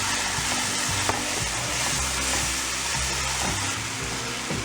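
Tomato puree and onions saute in a non-stick pan for kale saag, a loud, dense, steady sizzle close by, broken by a few scraping stirs of a spoon across the pan.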